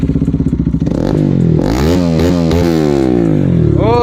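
A motorcycle fitted with a cheap aftermarket exhaust idles with a loping pulse, then revs hard and loud in long rising and falling sweeps, close by, the engine note climbing several times with no talking.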